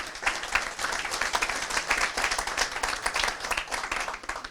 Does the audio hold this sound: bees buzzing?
no